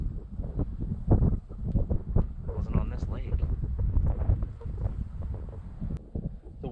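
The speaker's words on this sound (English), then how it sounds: "wind sure hasn't slowed down though" Wind gusting at a lake campsite, rough buffeting rumble and microphone-like blasts that rise and fall irregularly, with a voice talking faintly in places.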